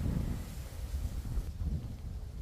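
Low, blustery wind rumbles continuously against the microphone, steady and fairly loud, with no voices.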